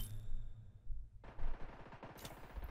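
An MP7 submachine gun fires in The Division 2 in bursts of rapid shots, with a short quiet gap before a dense, loud burst of automatic fire.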